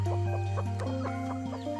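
A hen clucks in a series of short, close, repeated calls over a constant low background hum, with no voices.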